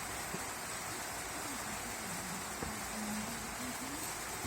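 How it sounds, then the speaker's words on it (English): Steady dense hiss of rain drums on a metal roof without pause, a low hum running underneath. "And I'm sorry about the noise. It's raining."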